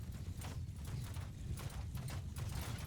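Horse hooves clip-clop steadily and close in a medieval battle video game, with a dense, continuous trample of heavy footfalls and thuds, loud throughout and with no voices.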